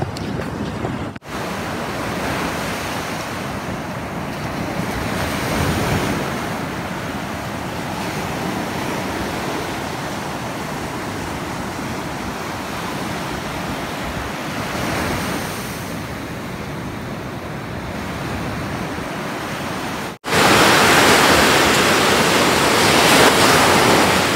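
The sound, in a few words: sea waves at the Zambales coast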